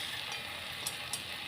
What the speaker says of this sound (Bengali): এবার দেবো ভাজা সেই বড়িগুলো।